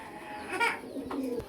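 Pigeons of a fancy breed coo softly at a breeding farm, a few low rolling calls close by with faint rustling and no talk over them.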